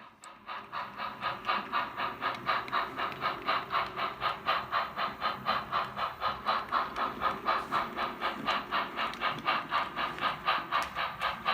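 A model railroad grain train headed by a consolidation steam locomotive runs steadily, giving a rhythmic chuffing pulse of about two beats per second that stays even and close throughout with no talk.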